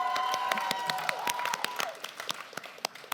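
A live audience bursts into cheering and applause, dense clapping with whoops that peak early and then thin out into scattered claps.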